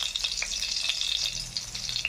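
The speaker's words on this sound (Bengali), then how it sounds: "কড়াইয়ের মধ্যে কিছুটা ঘি গরম করে কিশমিশ আর কাজুগুলোকে ভেজে নিচ্ছি।" Raisins and cashews fry in hot ghee in a wok, giving a steady bright sizzle with faint stirring scrapes, close and continuous with no voices.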